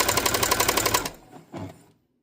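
A Brother CS6000i sewing machine with a seized bearing running a default zigzag stitch, a fast rapid clatter of needle strokes close by that cuts off and winds down to silence.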